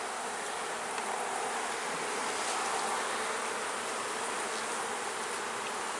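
Honey bees hum in a dense, continuous buzz around an open beehive during sugar-water feeding, close and steady throughout, with no voices.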